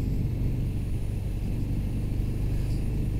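A Harley-Davidson Fat Bob 114 motorcycle engine rumbles steadily while riding, a continuous loud low drone with slight variation and no talk.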